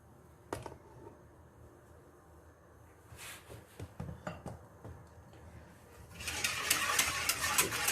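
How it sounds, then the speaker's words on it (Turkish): A utensil stirs tiramisu cream in a pot on a stove, giving scattered clinks and scrapes against the metal, irregular and fairly quiet, ending in a louder stretch of sizzling rustle. "Ocağın üstüne alıp iyice karıştırıyoruz."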